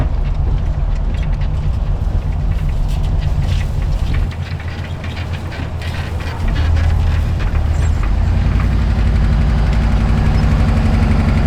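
A 1968 Oldsmobile 442 engine runs steadily with a loud, rough low rumble that holds throughout, easing slightly for a couple of seconds midway before returning.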